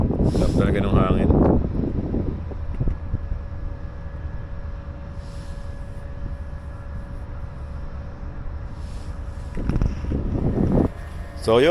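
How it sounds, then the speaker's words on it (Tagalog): Strong wind roars steadily into the microphone at the old Doha port in Qatar, with a person speaking briefly at the start and end. "Talaga ng hangin."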